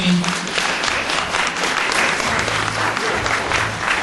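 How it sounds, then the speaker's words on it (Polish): Audience applause for performers at a 2011 carol concert, a loud continuous wash of many hands clapping, with a voice and faint tonal sounds underneath. "Ponagradzamy wykonawców jeszcze raz oklaskami."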